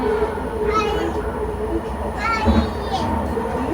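A Vancouver SkyTrain rumbles past on elevated rails, a steady loud rolling roar with brief tonal whines, while people nearby talk over it.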